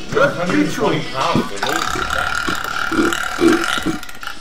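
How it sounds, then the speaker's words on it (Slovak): A long, loud burp rumbles out in a stretch of casual chatter, with voices talking and laughing around it. "Grgaj, ideš."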